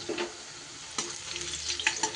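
Elephant foot yam pieces fry in hot oil, a soft continuous sizzle with a few brief crackling bursts and stirring scrapes, close by and alone.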